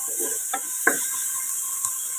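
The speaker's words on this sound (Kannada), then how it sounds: "ನಾನು ಮರುವಾಯಿ ಹಾಕಿ ಸ್ವಲ್ಪ ಉಪ್ಪು ಮತ್ತು ಅರಿಶಿನ ಪೌಡರ್ ಹಾಕಿ ಬೇಯಿಸ್ತೇನೆ." Clams (marvai) cooking in tomato with salt and turmeric, a faint steady sizzle with a few sharp clinks and scrapes of stirring against the pan, and no voices.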